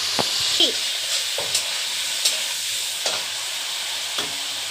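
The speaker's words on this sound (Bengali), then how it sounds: "তার জন্য পনিরটা ভাজছি" Paneer frying in a pan, a continuous bright sizzle with faint spatula taps and scrapes every second or so, close and steady, with no talking.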